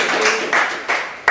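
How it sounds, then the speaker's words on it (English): An audience claps hands at an African radio and TV networks presentation, a few loose bursts of applause that swell and fade in short waves, fairly close and loud. "I want everyone to give you a big hand clap"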